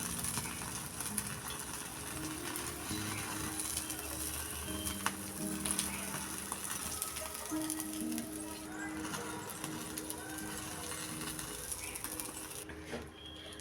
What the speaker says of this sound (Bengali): এইভাবে আগুনে একটু জাস্ট ঝলসে নেব।